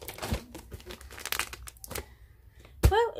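Sealed plastic packaging crinkles and crackles in irregular bursts as hands struggle to open it, close up, ending in a sharp louder rustle.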